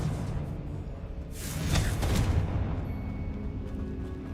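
A fiery Confringo spell explodes in the Hogwarts Legacy video game, a burst of crackling, whooshing blast noise that swells in the middle over a steady low game rumble, then fades.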